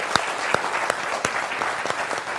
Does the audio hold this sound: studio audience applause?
yes